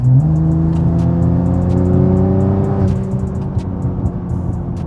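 A Nissan GT-R engine tuned to 750 horsepower revs hard and climbs in pitch, a loud rising turbocharged roar heard from inside, then eases off into a rumbling idle.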